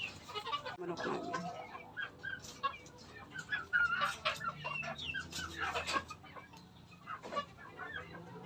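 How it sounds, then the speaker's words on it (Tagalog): Chickens clucking and squawking in an overgrown backyard coop, busy overlapping calls close by with a rooster among them, while someone talks over the flock. "Manok namin."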